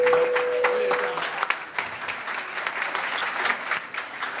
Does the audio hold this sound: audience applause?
yes